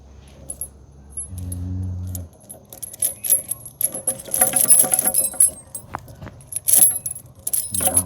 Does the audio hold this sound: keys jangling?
yes